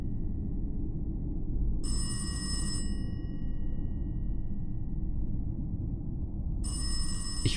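An old-style telephone bell rings in the horror video game Locked Up, two bursts of about a second each separated by a long gap, over a constant low ambient drone.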